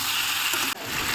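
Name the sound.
crab and boiled taro being stirred in frying pan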